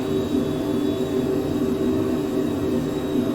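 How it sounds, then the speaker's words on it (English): The jet engine of a Citation 510 business jet in Microsoft Flight Simulator hums and whooshes in a steady, even drone, fairly loud and heard alone without talk. "But I do love the engine sounds on this 510."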